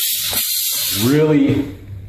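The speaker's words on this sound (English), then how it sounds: "Really shoots the steam out." A Vapamore MR-100 steam cleaner with its spot-cleaner attachment lets out a broad, close hiss of steam, followed by someone speaking briefly as the hiss fades.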